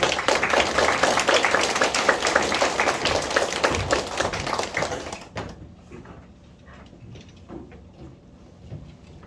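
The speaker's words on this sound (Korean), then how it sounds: "큰 박수로 맞아주십시오." Applause from a seminar audience welcoming a speaker at an exam-analysis briefing, dense clapping for about five seconds that then drops off quickly, leaving a quiet room.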